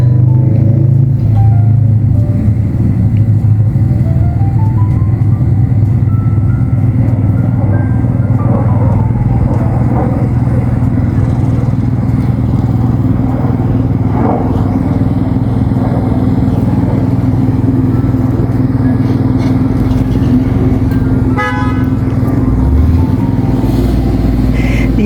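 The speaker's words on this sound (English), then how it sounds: "oh no, that's the little loud car in the neighborhood." A loud car passes through a residential neighborhood, its rough, steady engine rumble droning continuously and fairly near for the whole stretch, with faint background sounds under it.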